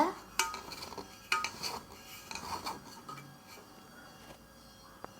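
A stovetop cake made on a dosa griddle is moved onto another plate, heard as sharp clinks and taps of metal and dishes, a few distinct knocks followed by softer scraping and handling.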